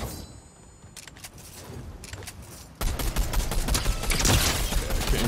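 Rapid gunfire in Fortnite rattles in dense bursts, lighter at first, then swelling into a loud, continuous barrage of shots that carries through to the end.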